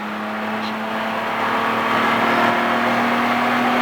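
A race car engine drones steadily and grows louder as it accelerates out of a turn on a racetrack, holding a strong tone throughout with no talk over it.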